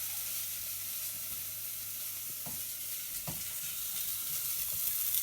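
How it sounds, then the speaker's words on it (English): Drained rice being stir-fried in a pan, a quiet, even hiss of frying with a few soft knocks and scrapes from stirring, no talking. "we add the drained rice and we stir fry that in together"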